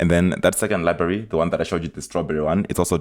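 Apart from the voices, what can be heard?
No distinct noise like a dog, phone or traffic.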